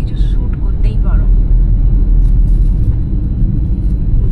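A car engine rumbles loud and steady on a road near Topchanchi Lake, laboring as it fails to shift into fourth gear, with speech heard over the drone.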